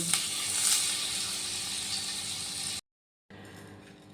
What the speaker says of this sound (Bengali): এবার আমি দিয়ে দিচ্ছি এক চামচ বাটার